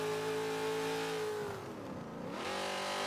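A 1971 AMC Javelin AMX revs its engine in the Forza 7 racing game, circling Maple Valley. A loud steady engine tone drops in pitch as the car shifts, then climbs again, with no voices.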